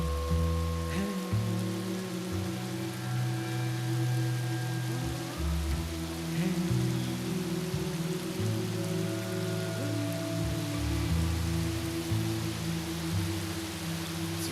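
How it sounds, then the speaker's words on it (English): Steady rain falls on a surface, a continuous close hiss with scattered drops and a low rumbling hum underneath throughout. "It's raining."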